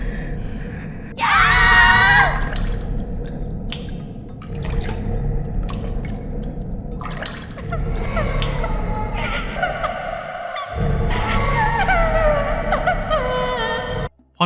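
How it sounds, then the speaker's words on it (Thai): Screams ring out in the Chilla's Art horror game Hanako, set in a Japanese school toilet: a loud, sharp shriek early on, then gasping and further distressed cries over eerie ambient game sound. "ตื่นขึ้นมาอีกครั้งหนึ่งเราจะได้ยินเสียงกรีดร้องของเอรีครับ"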